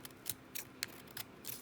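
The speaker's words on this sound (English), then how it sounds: "I'm going to cut a little bit here to get it a nice coverage." Scissors snip through craft material for a pumpkin lanyard, about six crisp, close cuts spaced irregularly with quiet pauses between.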